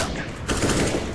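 Loud rapid-fire shooting from a match of Counter-Strike: Global Offensive on Dust 2, a dense rattle of close shots that grows stronger halfway through the brief burst.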